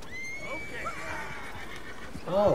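A horse in the video game Red Dead Redemption II whinnies with a long falling neigh, then gives a shorter louder snort-like call at the end, with someone talking over it.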